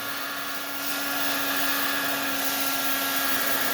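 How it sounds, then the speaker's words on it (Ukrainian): A steady, loud whoosh of a heat gun blowing hot air evenly over glass bonded with UV glue, with a constant motor hum underneath and no voices, holding at one level throughout. "Вмикаємо фен"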